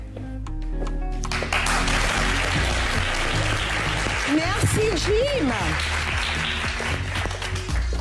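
A crowd applauds steadily for several seconds, dense clapping filling the room while a voice briefly speaks over it.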